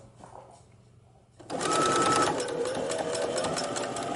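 A sewing machine starts after a quiet moment and runs steadily, stitching in the ditch along the seam of border-print pants, a close, even mechanical whir with a fast rhythmic needle beat that continues to the end.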